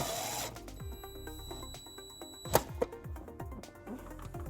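A power driver runs a self-tapping screw into the sheet-metal body of a 2017 Kia Soul behind the taillight, with whirring bursts, ratcheting clicks and a couple of sharp metallic knocks, fairly quiet and close.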